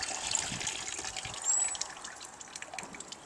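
Coolant trickles and splashes out of the bottom of a Suzuki Hayabusa water pump in a steady, close, gurgling stream, without any talk.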